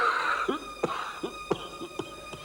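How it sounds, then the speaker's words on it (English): A series of about six dry, rasping coughs from a man, spaced unevenly, close and moderately loud, following a brief murmur of a voice at the start. "You have a terrible cough"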